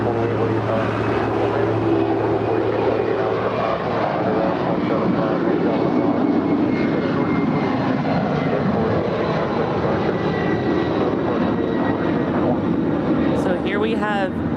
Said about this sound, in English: So here we have DHL operated by ABX Air, flight 480 off to Cincinnati. It's a 20-year-old 767-300ER.